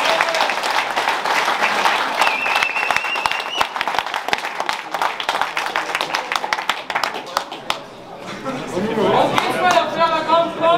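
Crowd applauding at an MMA fight night, sustained dense clapping with scattered whistles and chatter, fading briefly before another swell near the end.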